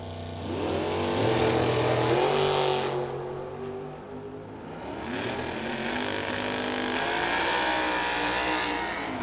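Chevelle drag car launching at Firebird Raceway, a loud roaring engine surging hard and pulling away, then a second rising burst of engine noise, heard from trackside with no talking.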